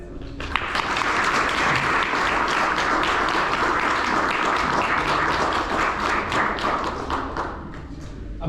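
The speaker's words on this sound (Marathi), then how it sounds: "एकदा जोरदार टाळ्या" A packed audience at a Marathi cultural program in Montreal applauds, a dense, steady burst of clapping with crisp individual claps that holds for several seconds before tapering slightly near the end.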